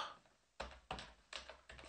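Typing on a computer keyboard: four quiet, close key clicks spaced unevenly over about two seconds.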